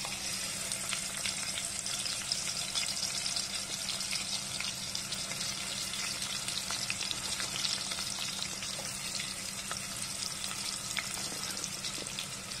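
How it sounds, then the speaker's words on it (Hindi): Onions sizzle in hot oil for Hyderabadi chicken biryani, a steady, fairly quiet crackling hiss with faint clatter, no voices. "तेल अच्छे से गर्म होने के बाद अब हम इसमें प्याज डालेंगे।"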